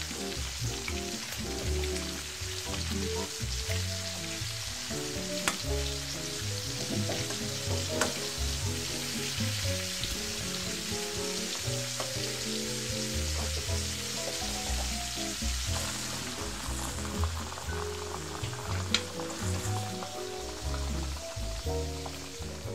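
Pieces of katla fish fry in hot oil in a large pan of fish curry cooked for a crowd, giving a steady, dense sizzle with occasional crackles and light stirring clatter, with no voices over it.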